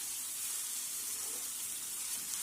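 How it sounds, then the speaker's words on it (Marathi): Onion, potato and chili sauté in hot oil, a steady faint sizzle with an even hiss and no voices. "हे तिघही तेलावर परतून घेणार आहोत"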